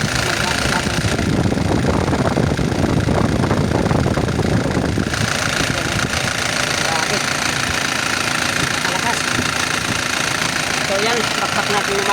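A Kia engine with a worn K2700 fault idles roughly with a constant loud rumble and a knocking rattle running through it the whole time.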